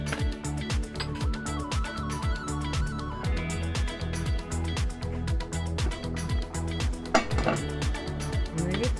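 A spoon stirs chicken calderita in a metal cooking pot, giving steady rhythmic scraping and clinking strokes, close and fairly loud, with no talk.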